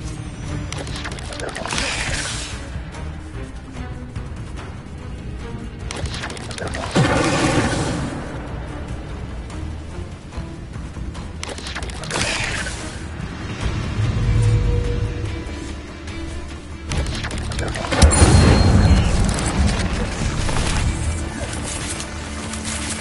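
Incendiary fire spell in Hogwarts Legacy cast in a fight against spiders: several heavy whooshing blasts and crashes burst out at intervals over a low, rumbling background of combat.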